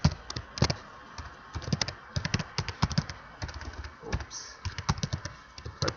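A project name being typed on a computer keyboard: clusters of quick, crisp keystrokes in uneven bursts with brief pauses, close to the microphone and fairly loud, with no speech.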